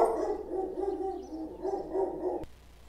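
An upset dog vocalises in a continuous run of moaning, whining barks for a couple of seconds before a sharp click cuts it off, leaving quiet room noise.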